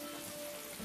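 Rain starts to fall in the video game Atelier Ryza 2, a dense, steady patter of drops with a hiss throughout, heard alone at moderate level.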